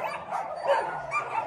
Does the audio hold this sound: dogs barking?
yes